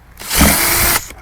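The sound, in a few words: drill boring holes in a chicken feeder container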